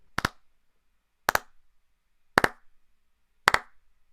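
Four sharp hand claps recorded close into a microphone, spaced about a second apart, each crisp and isolated against near silence.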